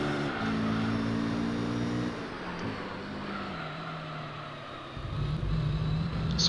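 Gran Turismo 3 race car engines, with a Mugen NSX and a Supra battling for position, drone steadily at a moderate level. The pitch sags and shifts as the cars change speed, and no one talks.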